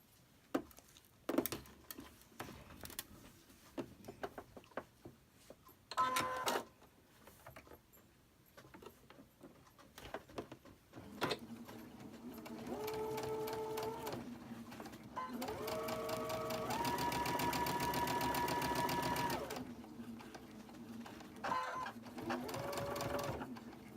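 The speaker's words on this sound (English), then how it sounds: "Next step is I've pinned both of these, one on each end, and I'm going to sew them." A sewing machine stitches pinned quilt blocks. Short stop-start bursts of needle chatter come first, then a steady, fast mechanical whir runs for several seconds before stopping, close and clear, with faint room noise between runs.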